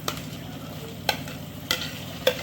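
Sliced tomatoes go into a pan of frying onions and masala for chicken dum biryani, a steady close sizzle broken by three or four sharp clicks of a spoon against the pan.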